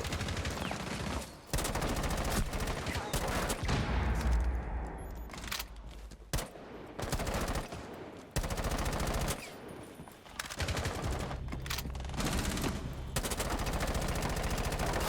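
Automatic gunfire from the Rainbow Six Siege video game, long loud bursts and rapid volleys that run almost the whole way with a few short gaps, harsh and close.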